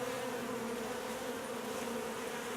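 Steady, dense buzzing of many honeybees at the hive, over frames of comb, a continuous close drone with no gaps and no voices.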